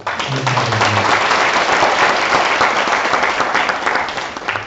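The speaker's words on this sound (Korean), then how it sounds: "오늘 이렇게 귀중한 시간 내주신 우리 김 건사님께 큰 박수 부탁드립니다" Audience applause at a special lecture, dense continuous clapping from a room full of people lasting several seconds.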